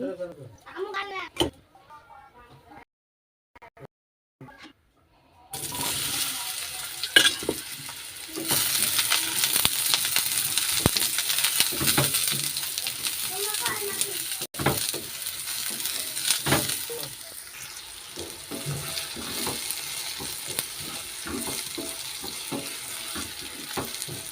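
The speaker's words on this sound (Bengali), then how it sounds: "বেগুন ভাজিটা বসাবো তার জন্য কড়াইতে একটু তেল দিচ্ছি" Eggplant fries in oil in a wok. After a few quiet seconds with brief sounds, a loud, steady sizzle starts and runs continuously, with occasional stirring scrapes.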